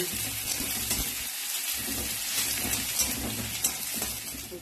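Chopped onion and whole spices sizzle and fry steadily in hot oil, a dense crackling hiss with a brief dip in the low rumble partway through, with no voices.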